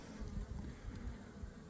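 Low, continuous buzzing of honeybees from a hive a week after package installation, a faint droning hum that wavers gently without any voices.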